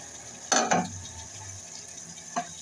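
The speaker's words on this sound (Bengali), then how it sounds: "এখন এটাকে নেড়ে চেড়ে মিশিয়ে নিচ্ছি।" Fish and potato curry is stirred in a pot: two quick scraping clatters of a spoon against the pot, then a single later knock, all over a soft, steady simmering hiss.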